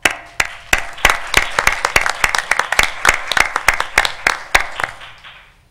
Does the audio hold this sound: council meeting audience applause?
yes